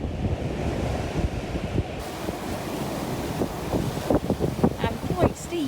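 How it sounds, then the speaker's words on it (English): Large Pacific Ocean swells and gusting wind around a sailing boat at sea: a constant roaring wash of water and wind buffeting, with sharper splashing bursts and slaps of spray crowding in toward the end. "Some of these waves are huge."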